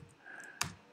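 A few soft computer keyboard keystrokes while typing a search into VS Code, ending in one sharper, louder click, close and quiet with no talk.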